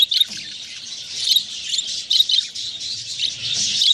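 Pet budgerigars chirp and twitter continuously in a busy, overlapping chatter, with sharper squawky notes standing out now and then, fairly close.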